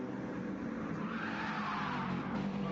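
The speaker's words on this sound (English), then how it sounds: "I hear that tyre squealing." A Mercedes-AMG supercar oversteers at a race circuit, its tyres squealing in a drawn-out whine over the engine's roar, heard at a distance for a couple of seconds.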